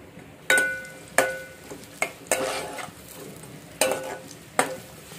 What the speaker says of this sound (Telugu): ఒక ఆనియన్ 4-5 పచ్చిమిర్చి వేసుకుంటున్నాం.